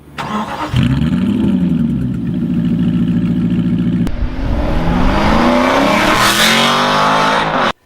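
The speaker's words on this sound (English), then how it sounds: "starting with a throaty rumbling 380 horsepower V8" A powerful naturally aspirated 380-horsepower V8 sports car engine fires up and rumbles loudly, then revs higher with a rising, throaty roar that cuts off abruptly at the end.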